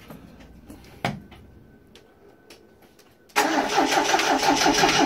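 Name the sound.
1982 Triumph TR7 car engine starting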